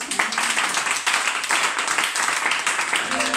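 A church congregation applauds Jesus Christ during a worship service, dense continuous clapping from many hands that stays loud and steady throughout.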